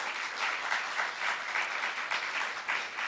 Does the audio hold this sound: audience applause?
yes